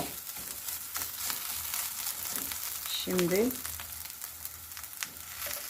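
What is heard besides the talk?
tomato paste sizzling in a pan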